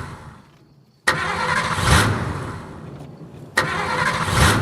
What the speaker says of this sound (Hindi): Is the car breaking down here?